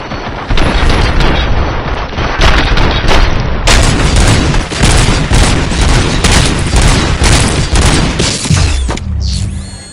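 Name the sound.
gunfire in the video game RoboCop: Rogue City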